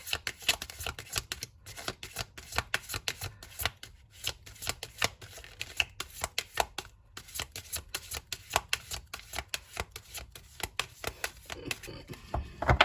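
Tarot cards shuffled continuously, a dense run of crisp riffles and soft slaps with brief pauses, close and moderately loud, with no voices over it.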